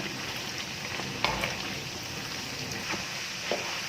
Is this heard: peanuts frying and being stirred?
yes